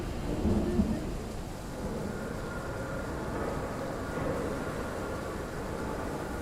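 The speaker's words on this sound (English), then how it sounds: "I can hear that thunder coming." A low rumble of thunder rolls through steady rain in the train-driving game Train Sim World 3. The storm is loudest near the start and fades into a continuous wash of rain.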